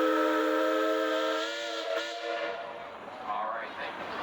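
A traction engine at a steam show lets out a long, loud steam whistle blast with rich stacked harmonics for about two seconds, then it fades into open-air crowd murmur and a faint voice.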